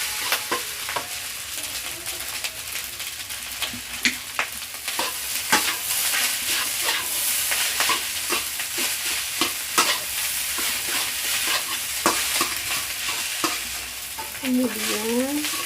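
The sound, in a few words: stirring fried rice with oyster sauce in a frying pan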